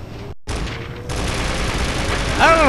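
Rapid gunfire in James Bond 007: Nightfire, a dense sustained burst of shots with a brief gap early on, joined by a voice toward the end.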